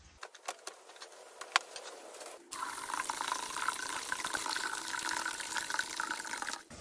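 Tap water runs to fill a maple syrup pan for cleaning with water and white vinegar, a steady close gush that starts after a few soft clicks and knocks and stops abruptly near the end.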